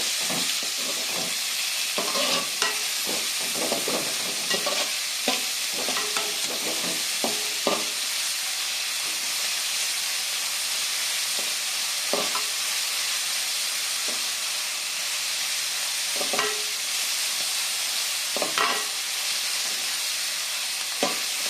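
Metal spatula scraping and stirring onions sizzling in a pan while tomato sambar is made, with a steady frying hiss and repeated short clinks and scrapes in irregular bursts, close by, no talking.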